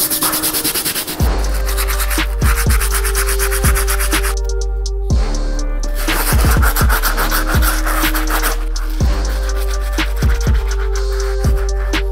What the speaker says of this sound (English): Move on to our last brush, which is our Stiff Bristle. We'll use this brush to clean up the soles and midsoles.